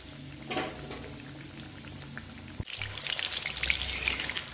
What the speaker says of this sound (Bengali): এবার আমি উল্টে পাল্টে এইভাবে লো ফ্লেম করে করে ভেজে নেব।